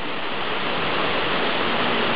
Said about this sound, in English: The Ramsey Cascades waterfall.